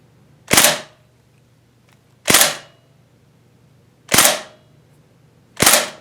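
Airsoft Daytona Scar H rifle firing four single sharp shots spaced nearly two seconds apart, each a crisp, close pneumatic crack with a short tail, over a quiet low hum.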